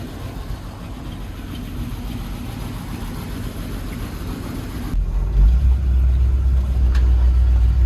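A Jeep J-10 truck engine idles after a fuel tank swap and ignition adjustment, a steady mid-level rumble that deepens and grows louder partway through as the revs rise, with no talking.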